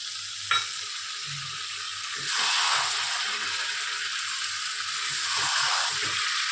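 Eggplant pieces and tamarind water go into a hot frying pan for an East Bengal dish: a quiet hiss bursts into loud steady sizzling, with light stirring clinks and scrapes running underneath.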